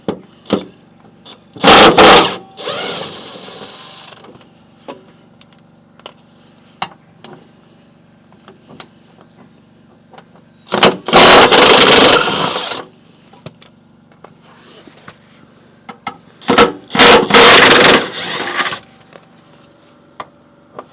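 An impact or power tool works 16mm bolts on a Mini Cooper front subframe in three loud, sharp bursts of a couple of seconds each, separated by quiet gaps with small clinks and handling noises.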